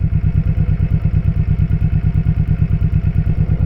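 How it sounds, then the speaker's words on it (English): A 2001 Honda Shadow Sabre 1100 motorcycle with hydraulic valve lifters idles close by with a steady, even, loping exhaust pulse, just back from a rainy ride, with no voices over it. "Listen to this engine."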